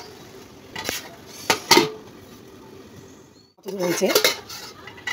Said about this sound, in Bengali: নেড়ে চেড়ে আবার এখন ঢেকে দিব।